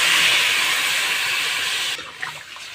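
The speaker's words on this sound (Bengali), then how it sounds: "এই দেখুন, জল দিয়ে দিচ্ছি।" Water pours into a cooking pot of kalbosh fish curry in a steady, close, rushing hiss that stops abruptly near the end, leaving faint kitchen clatter.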